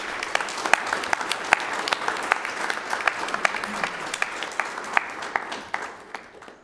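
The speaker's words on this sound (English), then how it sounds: "Please, round of applause for our new additions." An indoor audience at a city council meeting applauds new city staff, steady clapping from a modest crowd that continues for several seconds before tapering off.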